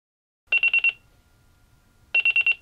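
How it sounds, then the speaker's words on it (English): Alarm clock going off at 3 a.m., two loud bursts of four rapid electronic beeps each, separated by a short quiet pause, close and clear with no voices. "When the alarm clock sounds at 3 a.m."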